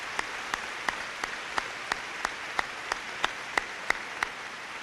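Applause at a high school commencement after the valedictorian medallion is presented. Evenly spaced claps from a nearby clapper stand out over a soft wash of crowd clapping.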